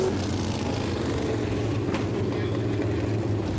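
360 sprint cars racing around the Merrittville dirt track, a dense, steady engine roar at moderate distance, continuous and unbroken, with no voices over it.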